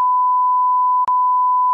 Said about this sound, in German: Das kann ich jetzt nicht sagen, das muss ich piepsen.